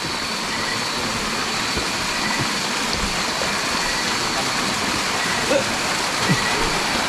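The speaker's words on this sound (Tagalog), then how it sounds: "mula doon sa itaas yan nadalo yung tubig at bumabagsak dito kaya napakaingay dito" A loud waterfall in an overgrown forest pours down from above, its steady broadband roar constant and close, with faint low rumbles beneath.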